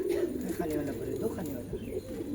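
Cooing from a bluish domestic pigeon kept by a fancier, low repeated throaty coos close by over a steady background, with voices talking in the background.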